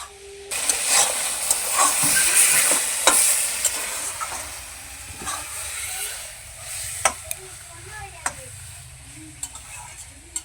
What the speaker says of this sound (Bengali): মাশরুমগুলোকে আমি ভালোভাবে কষিয়ে নিয়েছি।